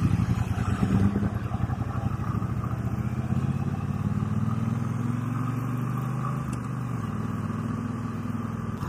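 A 2019 Triumph Bonneville Bobber Black motorcycle engine runs steadily during a test ride, a low rhythmic thrum with a gradual rise and fall in pitch, heard alone at moderate level.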